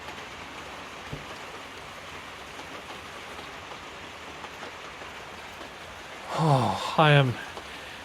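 Light rain falls steadily on a house roof under construction, a soft, even hiss through the whole stretch, with a person speaking briefly near the end.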